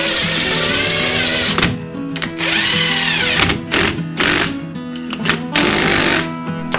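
A power tool drives in the brake caliper bolts on a vintage Honda CB500 front brake, giving loud, close whirring bursts that rise and stop in several uneven runs with short gaps between them.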